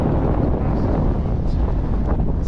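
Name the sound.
strong wind on a mountain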